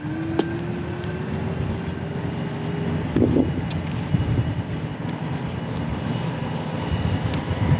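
An ENGWE C20 Pro electric bike runs on throttle alone at assist level 1, a faint rising motor whine over steady wind and road rumble, with a few small rattles.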